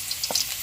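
Tomatoes sautéing in a very hot pan (kawali) with ginger, onion and garlic, a soft steady frying sizzle with a brief stir-like burst, heard close and alone.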